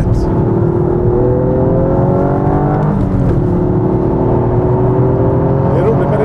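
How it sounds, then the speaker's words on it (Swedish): A Toyota Yaris GR three-cylinder engine drones loud and steady, its growl holding with slowly rising tones and no talk over it. "Det är roligt med det trecylindriga morret."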